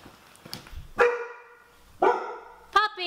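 A puppy gives three sharp, loud barks spaced about a second apart, each ringing briefly before fading, with faint background noise in between.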